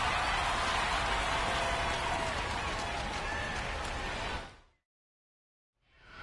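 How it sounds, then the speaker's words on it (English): Rain pours steadily onto a baseball field as a dense, hissing wash of drops that stays loud for several seconds, cuts to silence, then starts to return at the end. "the rain is coming down"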